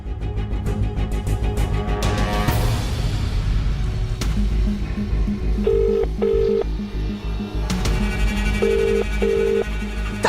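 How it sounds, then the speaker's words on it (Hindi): A telephone is dialed in a tense TV drama scene, with repeated short keypad tones sounding over a loud, continuous musical background score; there is no talking. "करिश्मा मैडम को फोन करता हूं"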